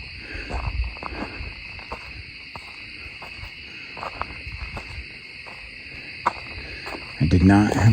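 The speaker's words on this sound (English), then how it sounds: "Yeah, there's an owl." An owl hoots at night beside the Huron River, soft repeated calls carrying over a steady chorus of crickets and insects, with faint rustling nearby and a louder burst of noise at the end.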